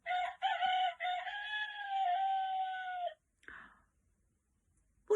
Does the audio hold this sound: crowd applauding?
no